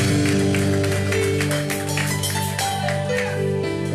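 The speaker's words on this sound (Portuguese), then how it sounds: "Aplauda porque Ele é fiel." Worshippers at a church service keep up continuous applause over steady, held music. The clapping is moderately loud and even throughout.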